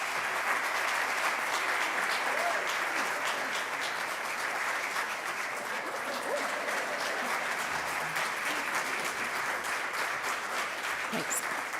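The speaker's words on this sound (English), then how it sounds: "and a final applause" Sustained audience applause fills a theatre during a season launch, a dense, steady wash of many hands clapping at even loudness for about twelve seconds, with no talk over it.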